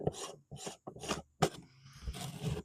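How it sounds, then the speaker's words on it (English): A pool fitting is threaded on by hand in short scraping, rasping bursts of plastic rubbing against plastic, close and fairly quiet, with small pauses between turns. "it should just kind of go on as much as you can by hand"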